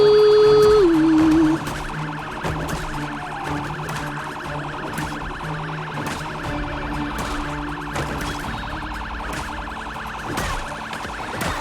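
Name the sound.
siren in the video game Project Zomboid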